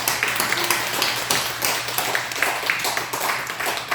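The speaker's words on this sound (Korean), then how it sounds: "우리 그 하나님 앞에 영광의 박수 올려드립니다." A church congregation claps together during a Korean worship service, dense continuous clapping filling the room for several seconds with a slight pulsing rhythm.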